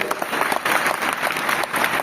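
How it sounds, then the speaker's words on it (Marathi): A short burst of crowd clapping at a Shiv Jayanti celebration, brisk and fairly close, with a faint murmur of people underneath. "आपल्या सगळ्यांसाठी एकदा जोरदार टाळ्या झाल्या पाहिजेत"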